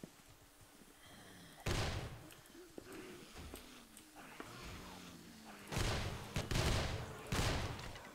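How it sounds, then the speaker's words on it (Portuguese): Gunfire from a machine gun in the video game 7 Days to Die, loud broadband bursts of rapid shots, one early and a cluster near the end, over quieter game ambience. "Eu vou quebrar com a metralhadora."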